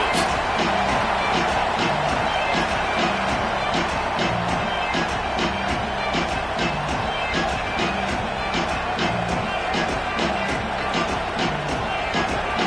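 A college football stadium crowd roars steadily before a Nittany Lions kickoff, a dense, continuous wash of cheering and voices that holds at an even loudness throughout.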